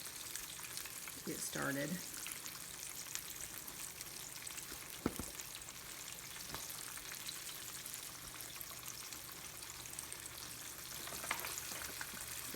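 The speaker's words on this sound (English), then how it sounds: "I'm going to find the wing pieces and go ahead and put those in." Buttermilk chicken wings deep fry in hot oil with a steady, faint hiss and crackle, plus a few small clinks, while a person speaks briefly.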